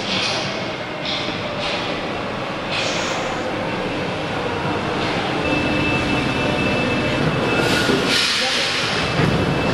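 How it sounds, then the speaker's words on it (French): A subway train arriving rumbles and hisses steadily, a continuous loud roar of rails and brakes filling the station, with faint voices beneath. "Le métro arrive, et bien on y va."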